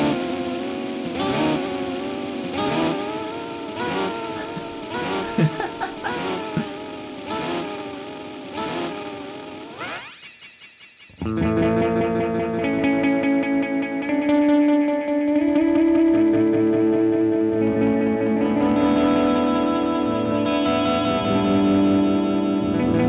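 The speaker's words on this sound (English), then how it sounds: "it also degrades really, really nicely. Like in some of these longer loop settings, just the noises that it creates." An effects pedal running long loop settings, its repeating pattern smearing and degrading into gritty, distorted noise, with a short drop near the middle before a denser, buzzing wash of texture returns, loud and continuous with no voices.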